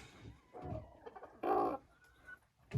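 A rooster in a poultry enclosure at a country dacha gives a short series of alarm calls at danger, several separate harsh bursts, one louder squawk in the middle, with no talking.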